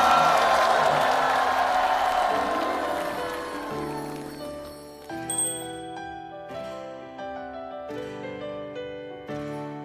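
Studio audience applause and cheering on a Chinese variety show as three guests come on stage, dense at first and fading under bright stage music with chiming bell-like tones.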